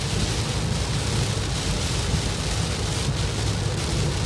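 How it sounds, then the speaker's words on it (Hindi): Heavy rain pours steadily onto a Toyota Fortuner on a highway, a dense, loud, unbroken hiss lasting throughout, with no voices. "झमाझम बारिश हो रही है"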